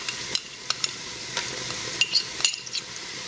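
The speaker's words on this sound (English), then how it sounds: "So it's time to add our ginger and garlic paste" Ginger and garlic paste sizzles in a pan with softened onions and peppers, a soft frying hiss broken by several sharp clinks and scrapes of a utensil stirring against the pan.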